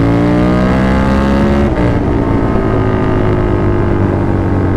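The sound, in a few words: KTM 1290 Super Duke R motorcycle downshifting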